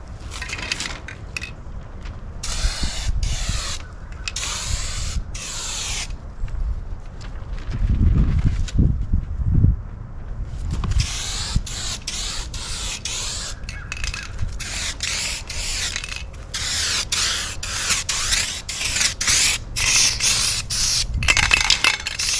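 Gloss white Turbo paint from an aerosol can sprayed onto a car at home comes in repeated hissing bursts of a few seconds each, close and steady, with a rumbling stretch in between and no talking.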